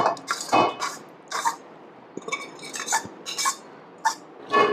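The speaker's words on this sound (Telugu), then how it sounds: "ఇప్పుడు స్టవ్ పైన ఇలా మరొక గిన్నె పెట్టుకొని కర్రీని ఈ గిన్నెలో వేసుకోండి." Curry is spooned from one vessel into a pot on the stove, with a run of close metallic clinks, scrapes and dull knocks coming in irregular bursts and pauses.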